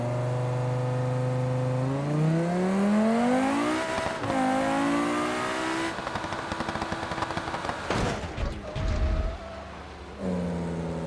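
A pink car revs hard with rising engine pitch, then a rapid rattling burst of crashing and impacts as it is wrecked, before the engine settles back to a steady drone; loud and close, no talking.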